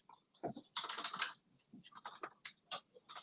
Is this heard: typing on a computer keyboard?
yes